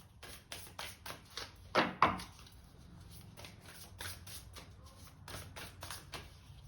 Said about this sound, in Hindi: अब मैं निकालती हूँ आपके लिए कुछ और ओरेकल कार्ड्स